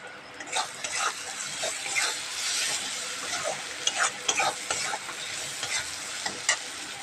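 Rice and ground chilli spices frying and being stirred in a pot for khichuri, a bright continuous sizzle with repeated scraping and clinking of a spoon, near and steady.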